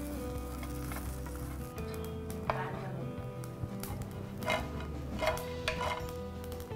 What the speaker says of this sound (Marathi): हे खोबरं आपण हलकंसं भाजून घेणार आहे.